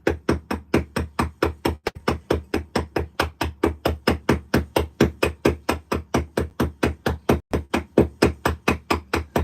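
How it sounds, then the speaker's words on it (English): Steady hand hammer blows on a chisel carving stone for a football club crest, sharp loud strikes repeating about four times a second, close and unbroken, with no power tools. "I'm not using pneumatic tools. I like this. This is me. Hammer and chisel."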